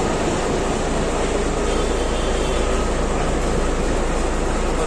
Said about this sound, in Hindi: जिसका इंतज़ार था हमको वह ट्रेन रेल बस आते हुए